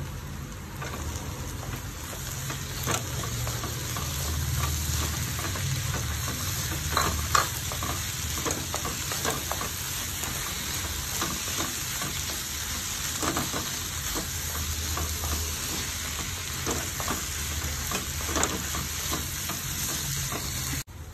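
Green peas and green chilli fry for vegetable cutlets in a pan, giving a dense, steady sizzle like light rain, broken by frequent spatula scrapes and stirring clatter throughout.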